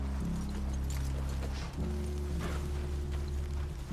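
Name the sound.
horses clip-clopping in the video game The Witcher 3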